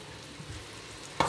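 Vegetables sweat in butter in a large pot for couscous, giving a low, steady sizzle with faint stirring. A sharp scrape or clatter lands near the end.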